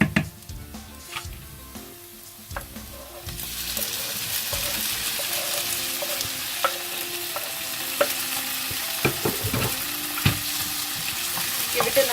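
Golden brown onions frying in a pan as tomatoes go in, a steady close hiss of sizzling that swells louder partway through, with scattered spoon scrapes and clinks against the pan.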